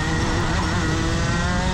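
A racing kart engine passes at close range on a wet track at Warden Law, running on slick tyres, with a dense, steady engine roar and spray noise that stays loud and constant throughout.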